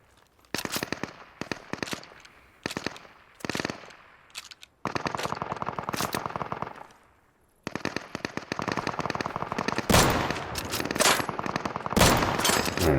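Gunshots in the survival shooter Deadside crack out in rapid, loud bursts of single shots and automatic strings, with short pauses between volleys, close and dense throughout.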